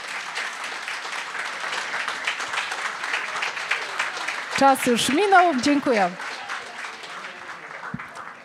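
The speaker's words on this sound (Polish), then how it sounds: "Wielkie brawa jeszcze raz" An audience applauds after a naturotherapy question-and-answer talk, with dense, steady clapping throughout and a voice briefly speaking over it in the middle.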